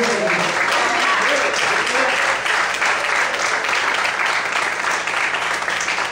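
A Brazilian church congregation at an evangelistic service claps in loud, sustained applause that holds at a steady level throughout, with voices calling out over it.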